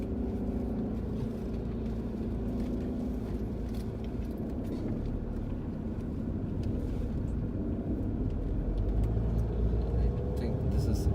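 Road traffic streams past near an Andhra Pradesh check post as a dense, continuous low rumble of engines and tyres, steady and fairly loud, with faint voices mixed in.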